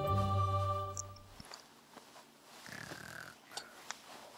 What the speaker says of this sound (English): My chick snores.